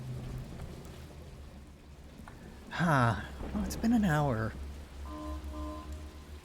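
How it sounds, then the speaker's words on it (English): Steady rain falls in the video game Dishonored, a soft continuous hiss in the background while a person talks over it. "here it started raining again"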